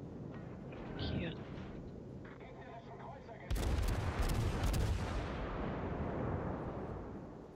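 Heavy naval guns firing in World of Warships during an Admiral Hipper versus Bismarck battle: a booming salvo that cuts in midway over a low ambient rumble and faint speech, then fades gradually.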